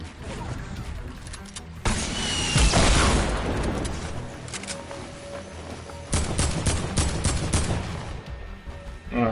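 Bursts of rapid gunfire and heavy bazooka blasts in Fortnite over a constant engine rumble, loud and close, with short quieter gaps between volleys.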